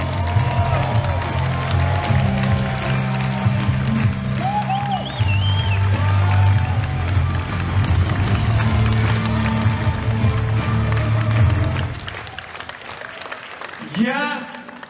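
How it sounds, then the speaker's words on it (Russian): A crowd applauds candidates at a 2019 Moscow City Duma nomination rally, sustained loud clapping and cheering with a steady hum underneath, cutting off sharply near the end. "Давайте похлопаем им."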